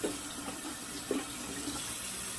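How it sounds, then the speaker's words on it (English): Tap water runs into a bathroom sink during handwashing, a quiet, steady stream with a few soft splashes and knocks. "I'm gonna go ahead and wash my hands again."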